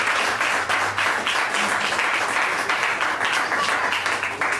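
A church congregation claps together in steady, dense applause that fills the room at full volume, sustained without pause or voices above it.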